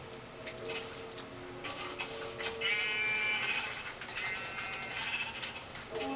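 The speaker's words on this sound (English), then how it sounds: "I'm gonna have to resort into killing these sheep." Sheep in the video game Minecraft bleating a few times, quavering calls fairly faint over a steady background hum.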